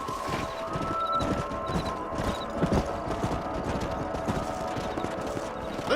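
Horse hooves clip-clop steadily in Red Dead Redemption, a continuous rhythmic trot at moderate distance, faint against a low ambient bed with soft tonal music.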